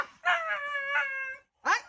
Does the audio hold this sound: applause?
no